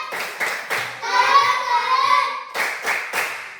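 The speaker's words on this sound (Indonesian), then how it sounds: "Tepuk salut dulu, kita semua sudah berangkat dari tepuk salut" Children in a classroom perform a clap chant, rhythmic bursts of hand claps with several sharp claps at the start and end and a chanted voice line in between, close and lively, with a voice calling out.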